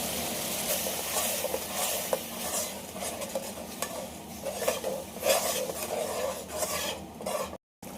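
Masala paste for vegetable pulao sizzles and bubbles in oil in a pan while a spoon scrapes and stirs repeatedly, close and continuous, with a brief silent gap near the end.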